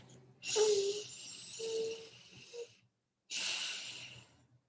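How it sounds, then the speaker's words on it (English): A single deep breath: a slow, close, fairly soft inhale with slight nasal whistling, a brief pause, then a steady airy exhale, with no talking. "Deep breath."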